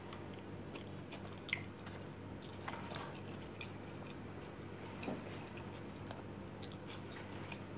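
Close, quiet chewing and biting while eating ketoprak, an Indonesian street food of tofu and rice cake, with soft wet squishes and an occasional sharper crunch over a low steady background hum.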